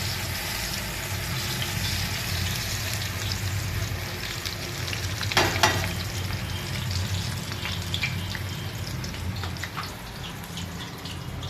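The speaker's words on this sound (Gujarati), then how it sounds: "તો ચાલો આપણી બધી જ હવે વેફર આ રીતે તળી લઈએ।" Banana wafer slices fry in hot oil with a steady, dense sizzle that runs throughout, broken by a brief clatter midway.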